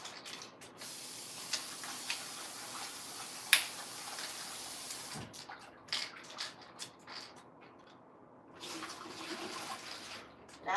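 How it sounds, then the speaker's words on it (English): Water running and splashing while egusi soup ingredients are rinsed in a kitchen, a quiet steady spray with brief gurgles, clatters and pauses, fairly close. "I am simply going to be rinsing it out now."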